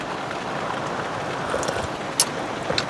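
Steady rain hisses down over a campsite during a monsoon storm, a constant even wash of drops with a few sharper taps close by.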